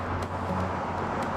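Steady roar of many passing cars mixed with wind at a bridge at night, a loud continuous wash of traffic rumble with no distinct pauses.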